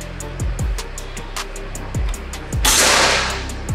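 A Gousuto Oria V2 air rifle being fired for a chronograph reading, a sharp crack followed by a burst of hissing noise, preceded by several short clicking knocks close by.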